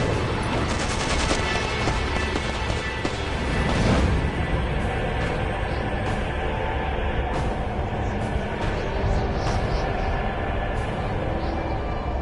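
Shooting in the Fahrenheit video game, a steady loud wash of rapid gunfire with sharp repeated cracks throughout, alone without talk.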